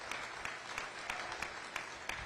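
Audience applauding market steer exhibitors at a youth fair beef show, a steady wash of distant clapping from a crowd with no talk over it.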